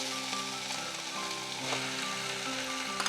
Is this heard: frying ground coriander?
yes